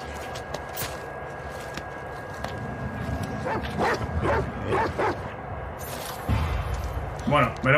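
Soft dog barks and yips from the video game The Last of Us Part II, several short bursts in the middle, under ongoing talk and game noise.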